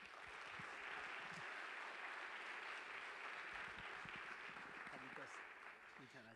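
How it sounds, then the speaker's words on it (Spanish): A crowd applauds steadily throughout, a dense wash of clapping with some voices mixed underneath. "Recibamos con un aplauso"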